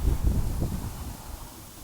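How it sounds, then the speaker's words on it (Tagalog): Strong wind gusting outdoors around a house, a loud low rumbling roar that buffets the microphone steadily throughout, with no talking. "Kusog kayong hangin."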